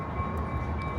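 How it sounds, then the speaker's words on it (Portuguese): A train or tram rumbles steadily past somewhere in downtown Dallas, a continuous low mechanical roar with a faint sustained tone and no voices. "Passando um trem ou um bonde em algum lugar."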